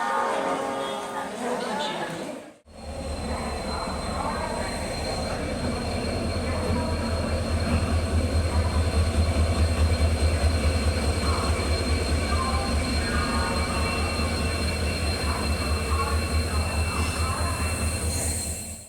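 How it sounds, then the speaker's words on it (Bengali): The 18013 Bokaro Steel City Express leaving Howrah station at night, with a steady rumble of rolling coaches and rhythmic wheel clatter after a brief pause, and a faint squeal above the noise. "11:35 নাগাদ ছেড়ে দিল 18013 বোকারো স্টিল সিটি এক্সপ্রেস"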